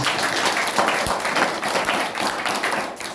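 A church congregation at a youth worship service claps for Jesus Christ, a dense, steady spread of hand claps filling the room from start to end, loud and unbroken with no voices over it.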